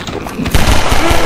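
Gunfire in Garry's Mod, the game's weapons firing in a dense, loud burst of rapid shots that swells in the second half, with no talk over it.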